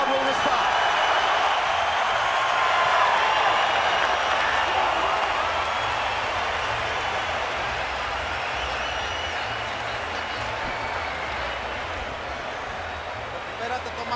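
A boxing arena crowd roars and applauds loudly and steadily after a combative round in a Golovkin versus Canelo title fight, a dense wash of cheering that fades slightly over the span.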